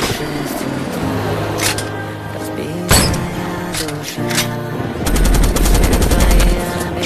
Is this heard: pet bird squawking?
no